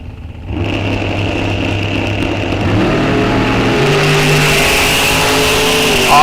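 A 1969 Camaro and another drag car launch at a Rock Falls Raceway test-and-tune: the loud engine roar swells in within the first half-second and holds as a steady, rising howl that climbs in pitch as they pull away.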